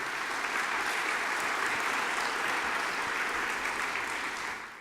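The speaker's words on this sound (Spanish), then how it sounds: "quisiera pedirles por favor que le diéramos un muy fuerte aplauso a Karen Castañeda" Sustained, dense applause from a conference audience for a backstage organizer, steady and loud throughout before tapering slightly at the end, with no one speaking over it.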